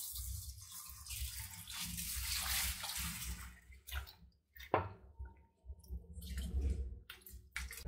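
Chana dal and dried red chillies being rinsed by hand in water, with sloshing and splashing that comes in bursts and pauses, close up and without any talk.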